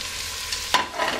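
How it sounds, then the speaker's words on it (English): Potatoes tipped and stirred into holy-trinity vegetables caramelizing in a pot for ham and potato soup, giving a steady close sizzle broken by a brief scrape and clatter of the stir. "My holy trinity started to be caramelized and I'm adding now my potatoes"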